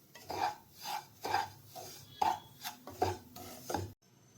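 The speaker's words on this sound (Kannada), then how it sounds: "ಅದೇ ತುಪ್ಪದಲ್ಲಿ ನಾನು ರವೆ ಹುರ್ಕೊತಾ ಇದ್ದೀನಿ" Semolina roasting in ghee in a pan, stirred with a spoon in about six rhythmic, raspy scraping strokes, close and clear, ending abruptly with no voices.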